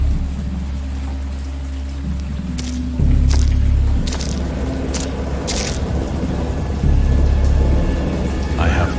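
Thunder during a great storm, rumbling with deep, heavy rolls that swell at intervals over a constant wash of rain, with sharp crackling bursts cutting through now and then.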